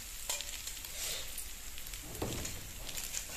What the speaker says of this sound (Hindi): थोड़ी देर इसको भूनना है कि सूजी जो है वो जज़ब कर ले।